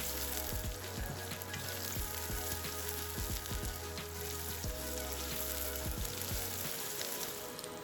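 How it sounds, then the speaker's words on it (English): Steady, crackling sizzle of chopped onions frying in hot oil until translucent, continuous and close, with a few faint stirring scrapes and no talking. "Frying it for half a minute until it turns translucent."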